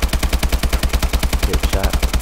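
Rapid automatic gunfire from a weapon in Call of Duty: Advanced Warfare, a loud, evenly spaced stream of shots running continuously with no pauses.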